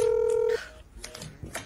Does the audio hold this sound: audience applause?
no